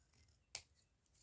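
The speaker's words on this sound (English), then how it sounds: "my cutting wasn't very good, so I'm just going to give that a little" Scissors trim a small paper envelope made from holiday ephemera, giving two quiet, crisp snips about two thirds of a second apart in a hushed room.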